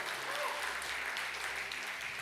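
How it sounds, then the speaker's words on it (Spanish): Congregation applauding the Lord during a church worship service, a steady wash of clapping across the whole stretch, moderately distant and even, with faint voices underneath. "Dale ese aplauso a Señor"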